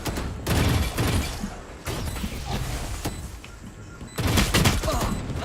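Scattered bursts of gunfire in the tactical shooter Valorant, loud cracks at the start and end with quieter clatter and movement between them.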